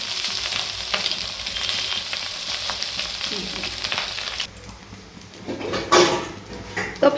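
Chow mein noodles with vegetables and egg stir-fried in a pan, a steady frying sizzle under scraping stirs that drops off midway, followed by a few louder clanks and knocks near the end.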